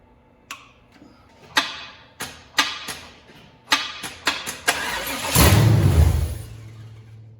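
A new crate motor in an air-bagged 1972 Chevy Suburban gives a string of sharp, separate clicks and knocks, then catches with a loud, rough burst of engine noise for a second or two near the end.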